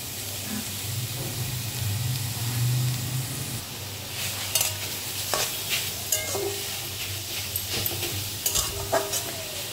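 Grated ash gourd for a coconut ghonto cooks in a kadai with only a pinch of salt, giving a steady frying hiss and stirring scrapes that grow sharper and more frequent partway through, with no talking.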